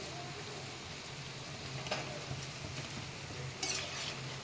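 Palm fruit fritters frying in hot oil, a steady low sizzle and bubbling throughout with a couple of brief scrapes and clinks as they are lifted out; no voices.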